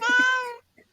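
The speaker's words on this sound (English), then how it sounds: "Did I hear a cat meow? Yeah, my cat's joining us." A house cat lets out one clear, drawn-out meow, loud and close, followed by a few faint murmurs.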